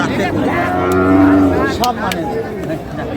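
Sahiwal bulls moo loudly and close by at a cattle market in Dinajpur, one long low bellow followed by shorter calls, with people chattering in the background.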